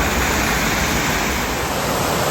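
A big waterfall, the Fall of the Hoof in Northern Ireland, roars as a dense, steady rush of falling water that fills the air loudly and evenly throughout.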